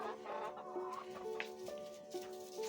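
Chickens cluck inside their coop on a snowy off-grid homestead, giving soft, scattered clucks and brief calls at low volume over a quiet background.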